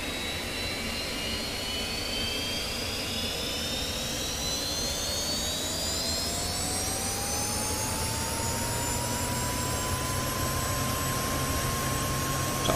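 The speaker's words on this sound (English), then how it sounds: "it's very important that we can hear what the engine is doing through the whole range of the revs" An F-86F Sabre jet engine in the DCS flight simulator revs steadily upward in pitch, a continuous loud whine and roar that rises smoothly throughout with no voices.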